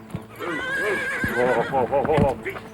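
A horse whinnies loudly and shakily up close, with hooves clopping and some voices around it.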